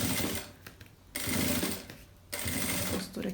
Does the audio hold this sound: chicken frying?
no